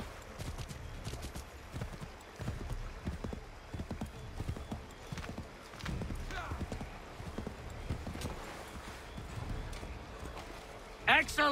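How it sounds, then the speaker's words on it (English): Horse hooves gallop in a steady, rapid clip-clop rhythm while riding in the video game Assassin's Creed 3 Remastered on PC, with game voices occasionally over the hoofbeats and a brief sharper sound at the very end. "Get back on the horse, Connor."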